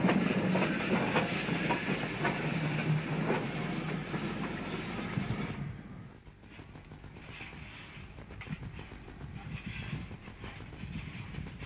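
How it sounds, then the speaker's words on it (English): A vintage Southern steam tank engine shunts carriages between platforms on the Bluebell line, a rumbling, clanking roll of rail wheels with hissing that fades to a lower, rattling murmur partway through, heard from a moderate distance. "the tank engine shunts the stock into the other platform before departure"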